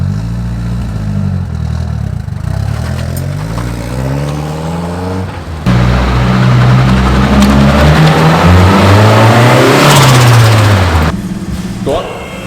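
A Nissan 240SX engine cold-starts and idles roughly through a cheap exhaust, with a raspy, droning note that rises in pitch and volume as it revs, loud and close.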